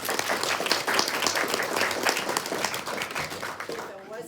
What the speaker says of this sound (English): I think we need to give Lena a round of applause